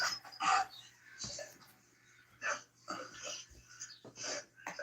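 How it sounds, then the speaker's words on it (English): A dog sits close by in a garage, making several short soft huffs, snorts and breathy whimper-like sounds in irregular bursts, fairly quiet, while a low steady hum runs underneath. "The sweetest dog there ever could be"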